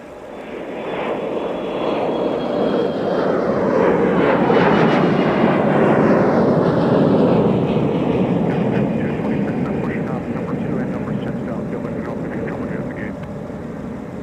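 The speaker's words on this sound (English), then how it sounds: "Now I think our heavy A330 is lining up for Honolulu." An Airbus A330 heavy airliner on its takeoff roll at a snowy Minneapolis–St. Paul airport: a loud, broad jet roar swells steadily, holds at full power for several seconds, then eases slightly as it continues.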